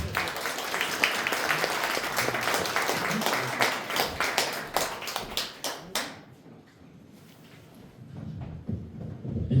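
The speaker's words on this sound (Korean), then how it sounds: "힘찬 박수 부탁드리겠습니다." An audience at an academic conference lecture hall claps loudly to welcome a speaker, dense applause tapering into scattered claps before stopping.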